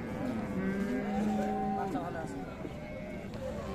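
Red-and-white Friesian cattle low at a livestock market, a drawn-out moo rising and falling over a busy crowd background with people talking nearby.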